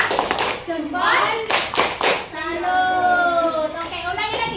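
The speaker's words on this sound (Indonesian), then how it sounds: "sekarang kita kasih tepuk salut" Children in an Indonesian classroom do a rhythmic 'tepuk salut' clapping chant, bursts of clapping alternating with chanted voices in a patterned beat, loud and close.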